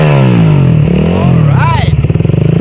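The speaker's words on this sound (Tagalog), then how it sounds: "So ito guys yung appearance at yung tunog guys, narinig nyo naman. Akrapovic R11 for CF Moto 300" A CFMoto 300SR motorcycle fitted with an Akrapovic R11 exhaust and dB killer revs up loudly and close, its engine note rising and falling through blips before settling into a pulsing idle.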